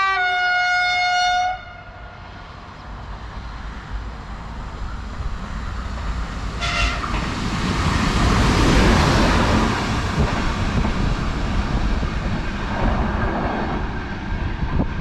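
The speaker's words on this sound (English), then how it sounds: "Apparently, as Noah said, it's quite uncommon to get any sort of special workings in Ireland on the railway network" A train horn blares briefly, then a train rumbles past close by on an Irish railway line, a steady roaring clatter that swells and slowly eases.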